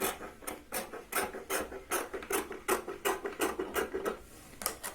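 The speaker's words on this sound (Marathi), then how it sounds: "शिलाई लावल्यानंतर मेन फॅब्रिकच्या गळ्याची आपण कटिंग करून घेऊया." Scissors snip through the main fabric along the neckline of a Punjabi top after the lining has been stitched on, giving a close, steady run of crisp rasping cuts with short pauses between them.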